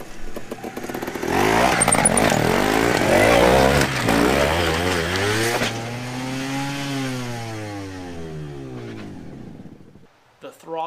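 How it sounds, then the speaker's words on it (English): A Montesa trials motorcycle engine with its throttle stuck open screams loudly, then its pitch rises and falls in long sweeps before cutting off abruptly near the end. "The throttle stuck and started to rev higher and higher on its own."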